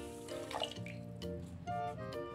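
Water pours into a container holding granulated sugar for making sugar syrup, a close, bubbling, gurgling stream that runs steadily with uneven surges and drips.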